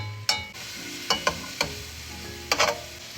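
Minced garlic and mushrooms fry in Kerrygold butter in a pan, a soft steady sizzle broken by a few sharp scrapes and stirs of a utensil.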